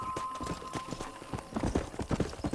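Quick, steady clip-clop of horse hooves trotting close by in the video game Red Dead Redemption on PS5, a brisk rhythmic patter that picks up slightly toward the end.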